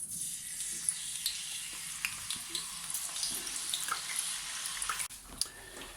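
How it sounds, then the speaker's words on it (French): Potato slices sizzle and crackle in hot oil, a steady bright frying hiss with scattered pops, close and fairly quiet, with no voices over it. "Et là, je vais les frire tout de suite."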